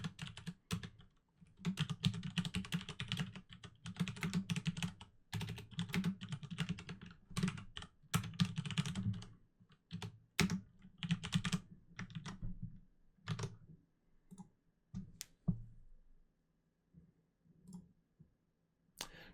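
Typing on a computer keyboard, bursts of quick close clicks in irregular runs with short pauses between them, alone and fairly quiet.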